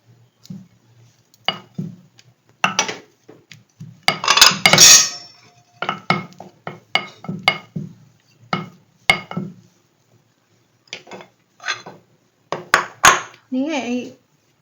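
Onion kachori dough balls rolled out with a rolling pin, giving repeated soft wooden knocks and light clinks against a board and plate in a home kitchen, in steady bursts with pauses and occasional voice.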